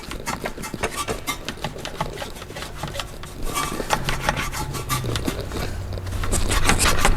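Wheel woolie brush scrubbing the dirt-caked barrel of a car wheel, a close, continuous rhythmic rubbing and scraping with quick repeated strokes that grows louder near the end.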